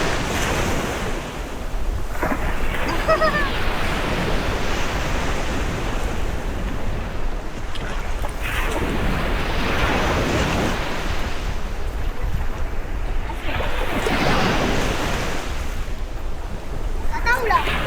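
Sea waves roll steadily onto Mersing beach as the tide rises. The surf crashes continuously with periodic swells and a roar of wind buffeting the microphone.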